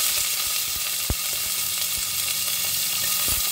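Green chilli, onion and garlic shallow-fry in a pan, a steady bright sizzle with a few sharp pops and stirring clicks. The sound is close and continuous, with no voices.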